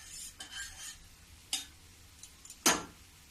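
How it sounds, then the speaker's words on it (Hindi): A spoon stirs sugar syrup flavoured with rose water, making soft scraping swirls and a few sharp metallic taps against the pot, the loudest near the end, with no talking. "अब इसको थोड़ा अच्छे से मिला देती हूँ चाशनी को।"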